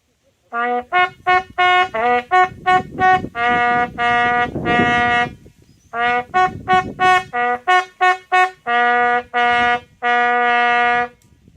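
A fife plays the light infantry advance march at Fort George, Ontario: bright, close, clear notes in quick rhythmic runs, separated by short breaths and a brief pause midway.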